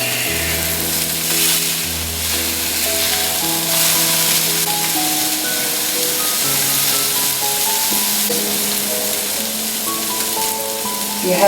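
A Salisbury steak patty sizzles steadily in a hot pan after being flipped, a loud continuous crackling fry with a sustained instrumental music bed playing underneath.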